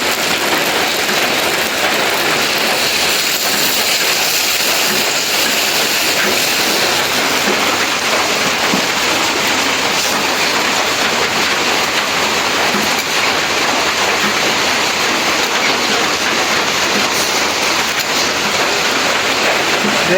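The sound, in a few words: heavy monsoon rain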